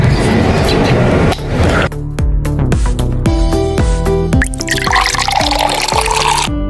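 Liquor poured as a shot into a glass in a home kitchen, a splashy liquid rush followed by a rapid run of clinks and knocks of glass and bottle; close and fairly loud, no voices.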